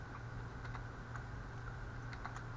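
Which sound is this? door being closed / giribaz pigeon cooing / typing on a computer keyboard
typing on a computer keyboard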